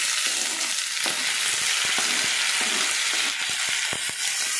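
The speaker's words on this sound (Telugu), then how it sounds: "వేసుకొని కొంచెం తిప్పుకోవాలి. ఆనియన్స్ ఫ్రై అయ్యే వరకు" Onions, coriander, chillies, carrot and tomato frying in a pan for upma, a steady loud sizzle with scattered sharp scrapes and taps from stirring, close up and without speech.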